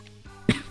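A single short, sharp cough bursts out after a brief quiet breath, close and fairly loud, with no talk around it.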